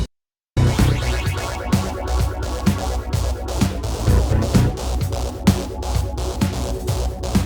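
Music plays through headphones without the Waves NX Oceanway Nashville room-emulation plugin, starting after a brief silence with steady rhythmic drums and dense instrumentation, loud and continuous with no talking.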